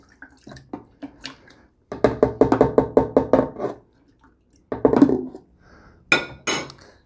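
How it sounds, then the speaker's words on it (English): Strawberries and bananas being mashed for homemade banana strawberry wine, giving wet squelching and clinking bursts of utensil against container, in two longer runs with pauses and a final short burst, close and fairly loud. "Mashing up some of these berries and bananas along the way."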